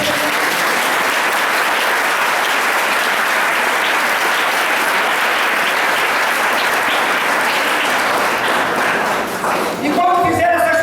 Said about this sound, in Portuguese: Dê uma salva de palmas, Jesus